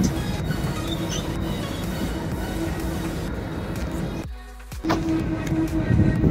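Train at New Haflong railway station, a steady rolling rumble of carriages with a brief dip to near quiet before the noise returns louder.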